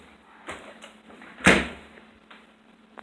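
A door being opened, a couple of soft clicks of the handle followed by a louder knock and swing, close and alone without talk.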